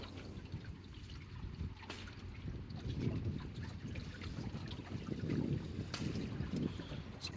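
Wind rushes steadily over a sailboat gliding back into a marina in fog, with low rumbling buffeting on the microphone and faint water trickling and dripping, continuous and without talk.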